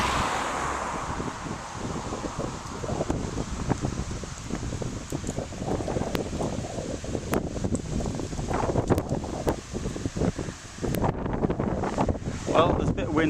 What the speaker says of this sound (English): there's a bit of wind coming up now, which will seem more extreme because when it's hitting the microphone dead on.